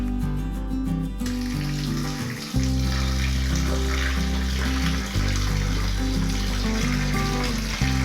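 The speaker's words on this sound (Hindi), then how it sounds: "अभी हमने एक मरतबा फिर वॉश करना है।" Minced meat is washed under a running kitchen tap, with water splashing and gushing steadily into a bowl, close and fairly loud. A low tonal hum runs underneath, and the flow briefly changes about a third of the way through.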